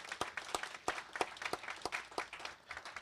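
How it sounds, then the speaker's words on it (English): Audience applause at a small city economic leadership summit, a crowd clapping in a steady, moderately distant burst of overlapping claps that carries on through the clip. "Go ahead, you can give him applause."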